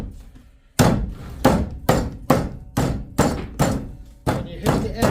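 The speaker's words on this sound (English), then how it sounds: "Now you take your little sledgehammer" A small sledgehammer strikes the cut metal edge of an air conditioner being scrapped. About nine loud, close metallic blows land at a steady, quick rhythm.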